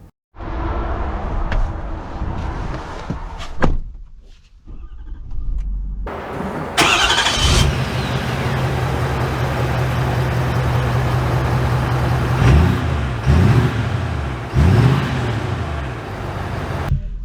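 A new Ford F-350 Dually Platinum pickup truck, a high-output diesel, cranks and fires up with a loud burst, settles into a steady deep idle, then revs and pulls away with engine surges.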